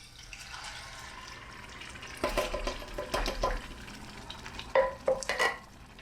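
Crushed tomatoes are poured and stirred into a hot pan, thick liquid sloshing in a few bursts over a low steady background hum.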